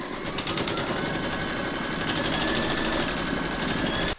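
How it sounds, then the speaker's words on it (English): A home embroidery machine stitches a placement outline through a hooped flamingo applique, a steady fast mechanical whirring and rattling needle rhythm, close and continuous until it stops abruptly at the end. "Then pop your hoop into your machine and stitch round number 1, and that's going to give you your batting placement outline."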